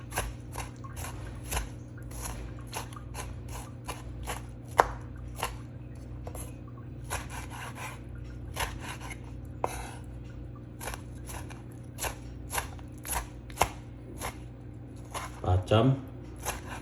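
A knife chops tomatoes on a cutting board, steady repeated taps spaced evenly and fairly close, with a few brief louder knocks and clatters in between.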